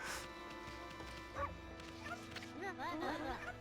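A white wolf in the Okami video game gives several short, yippy barks over steady game music, with the barks clustered near the end.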